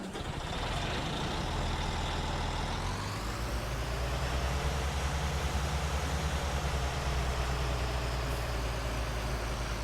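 A truck engine in the farming video game Farming Simulator 19 drones steadily at idle and low revs, a continuous close rumble with a slight rise in pitch partway through, with no talking over it.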